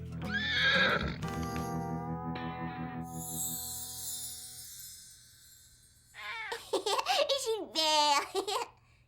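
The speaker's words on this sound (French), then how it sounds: "Salut le cheval." A cartoon horse whinnies loudly in a rising, wavering neigh, followed by two more shrill whinnies near the end, with a tonal chime and clip-clop-like sounds earlier in a children's animated farm scene.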